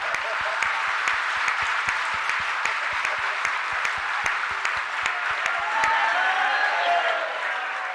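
Loud, sustained applause from a large audience at a Jain monk's religious discourse, dense clapping filling the whole stretch with sharp individual claps standing out throughout.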